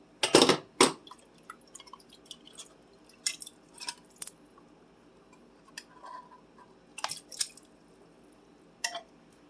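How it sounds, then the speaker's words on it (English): A can of Rotel tomatoes with its juice is dumped into a chicken enchilada soup pot, a loud wet splashing plop up close, then scattered drips, squishes and light clinks. "This you can dump the entire can in, including the tomato juice."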